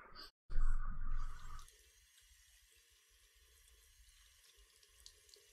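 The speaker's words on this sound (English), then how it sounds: "okay, I guess we're taking a shower in the dark." Water rushes loudly from a shower in the video game One and Done: Subconscious for about a second, then drops away to faint dripping and a low trickle.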